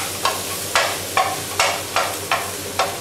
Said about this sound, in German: Und lasse dabei den Gyros noch ein klein bisschen anziehen.